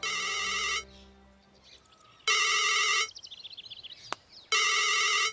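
A phone's electronic ringtone sounds in three separate bursts, with faint chirping and rustling in the quieter gaps between rings, in a Bhojpuri film scene.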